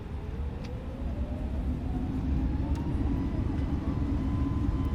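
Airbus A320 airliner engines spooling up to full throttle for takeoff in the flight simulator MSFS2020, a loud steady roar with a rising whine that climbs gradually over several seconds.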